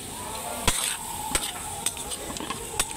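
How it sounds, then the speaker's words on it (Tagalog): Duck adobo with soy sauce being stirred in a hot pan, a steady sizzle under repeated sharp clinks and scrapes of a utensil against the pan, close up and without speech. "Haluin muna natin"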